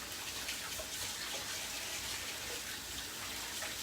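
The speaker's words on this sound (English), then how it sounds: "now I'll wash my hands because they're a little bit greasy" Greasy hands are washed under a running kitchen tap in a steady, close, hissing stream of water that continues evenly throughout with no talking.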